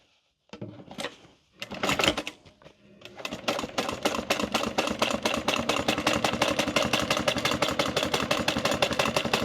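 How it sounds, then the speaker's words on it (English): A sewing machine top stitches along the folded edge of a fabric wallet piece, running in a steady, fast, close rattle after a few short starts and stops. "we're top stitching on the folded edge"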